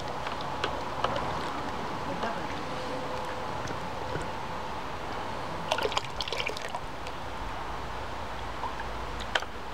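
Part of a kerosene lantern dipped into a jar of hot water, giving soft trickling and gurgling with scattered small splashes and drips, faint and close.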